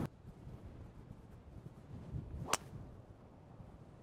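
Wind gusts across an open golf course, a soft, low rumbling buffet against the microphone with one brief sharp whoosh midway, heard alone.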